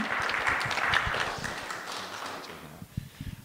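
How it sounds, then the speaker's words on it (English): Audience applause welcoming a speaker to the front at a testimony talk, fairly strong at first and then thinning out to a few scattered claps near the end. "join me in giving a huge round of applause to Simon and welcome him up to the front."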